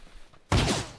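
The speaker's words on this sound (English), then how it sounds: "Oh, I hear gunfire." Gunfire in the battle-royale video game PUBG: one sudden burst of shots, with quiet before it and a lingering rumbling tail after.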